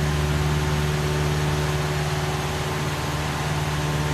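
Cessna 172 engine in Flight Simulator X running at about 95% power, a steady, droning hum with a strong low tone and broadband noise, loud and unbroken with no talking.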